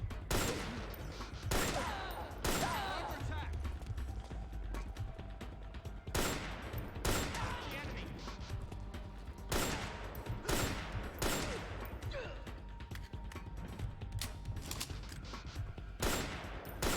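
Gunfire in Metal Gear Solid 4 during sniper play: about a dozen loud, sharp shots at irregular intervals over steady background game noise, with no talk.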